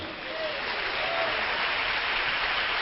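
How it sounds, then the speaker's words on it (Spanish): A church congregation claps for the Lord during a sermon, a dense, even roar of applause that swells slightly and holds steady. "Den un aplauso al Señor"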